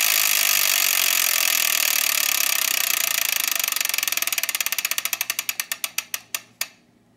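A Wheel of Fortune game show wheel spins with rapid ticking that starts as a dense blur and slows into distinct, evenly spaced clicks until it stops, loud and close with no voices over it.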